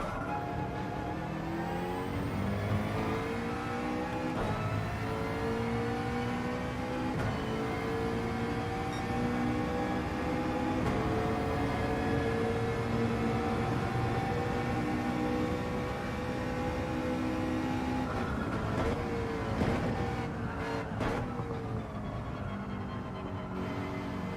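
Porsche race car in Gran Turismo 7 at racing pace, a loud sustained engine drone with rising and falling gear pitches, brief rattling bursts as it rides over curbs near the end.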